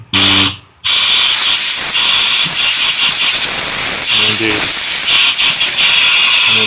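Compressed air hissing hard through an Accusump electric valve, a loud close broadband jet that briefly stops and restarts, then roars steadily with slight fluctuations, a voice faintly underneath.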